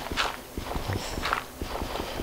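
A video game character drops and lands, giving a run of soft, muffled thuds and scuffs like footsteps at an uneven pace, faint and close with no voices.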